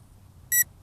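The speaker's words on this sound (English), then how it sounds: "So it sent out a beep" A TIANQU VISUO XS816 optical flow RC drone emits one short high-pitched electronic beep after gyro calibration, a brief clear tone standing alone against a quiet background.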